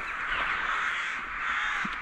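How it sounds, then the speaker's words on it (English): Many crows fill the air near an abandoned airfield in Suffolk or Norfolk, their massed calls forming a dense, continuous chatter that sounds fairly distant. "I think we might get killed by crows here. Look at them all."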